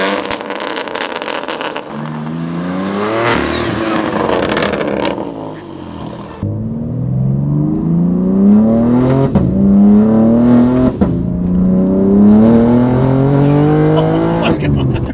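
A BMW G80 M3 pulls hard up through its gears, the engine note climbing and dropping back with each shift, loud and close from inside the car, while people talk over it.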